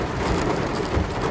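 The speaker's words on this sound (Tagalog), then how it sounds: "napakalakas ng ulan guys, naririnig nyo ba? Ang laki pa ng patak niya ha." Heavy rain pours steadily at a shopping mall parking entrance in Alabang, a dense, loud hiss of large drops drumming on surfaces with no talk.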